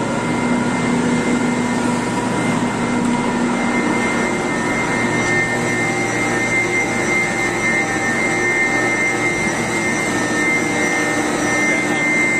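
Eight pumps of a conventional pumping system run in a water treatment plant, making a loud, constant mechanical roar and whine that fills the space without a break.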